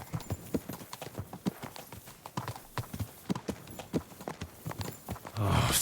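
Horse hooves in Kingdom Come: Deliverance 2 clip-clop in a steady, even walking rhythm, crisp and fairly close, ending in a brief rush of wind or rustle.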